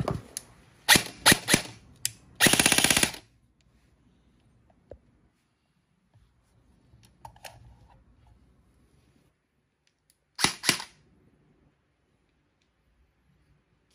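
DOUBLE BELL M4 toy gun fired in test bursts: a few sharp cracks, then a fast rattling burst, a long quiet stretch with faint handling noise, and another short burst near the end.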